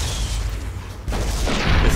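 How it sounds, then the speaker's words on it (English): A cannon fires in Fallout New Vegas, a deep booming blast with rumbling low end, followed by a second heavy impact and lingering reverberation. "There's a cannon."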